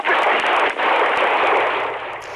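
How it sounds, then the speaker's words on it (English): Rapid gunfire exchanged between a suspect and a police officer during a traffic stop for suspected drunk driving in Michigan, loud, dense, continuous shots with no clear gaps. "within seconds, gunshots came from the suspect and the officer"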